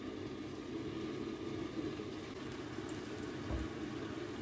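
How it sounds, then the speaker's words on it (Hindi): Egg-coated chicken shami kebab patties fry in a pan of hot cooking oil with a soft, steady sizzle and bubbling hiss that stays low and even throughout. "शामी टिक्की को हम फ्राई करेंगे।"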